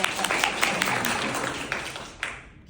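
An improv theater audience breaks into applause, a dense wash of clapping with sharp individual claps that holds for a few seconds before tapering near the end, with some voices mixed in.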